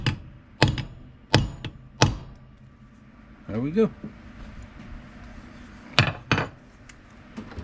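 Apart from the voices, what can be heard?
steel hammer tapping leather for tooling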